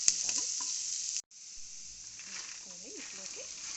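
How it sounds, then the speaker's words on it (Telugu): Onions crackle and sizzle steadily in hot oil in a pan, with stirring scrapes; a short cut interrupts the sound before it resumes under quiet speech. "ఇవి కాస్త దోరగా వేయించుకోవాలి"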